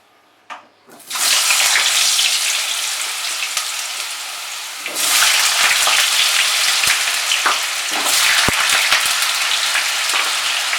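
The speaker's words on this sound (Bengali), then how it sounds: "সবার প্রথমে আমরা আলুটাকে ফ্রাই করে নেব" Cut potatoes drop into hot mustard oil in a wok and set off a loud, sudden sizzle that settles into steady frying, then flares again as more potatoes go in, with a few sharp crackles.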